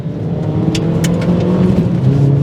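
A 2007 Suzuki Swift Sport's four-cylinder engine drones and revs steadily up close, a raspy mid-pitched hum rising slightly in pitch over a couple of seconds.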